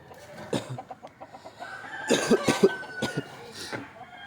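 Country chickens in a coop being opened in the morning make a scattered run of soft clucks and a few sharper calls, close and fairly quiet, with a cough-like burst among them and no speech.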